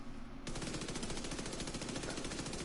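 Rapid submachine gun fire in the Destiny 2 video game, a dense, loud continuous burst that starts abruptly after a brief quieter moment and keeps going.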